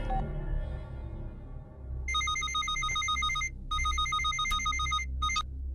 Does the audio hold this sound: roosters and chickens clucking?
no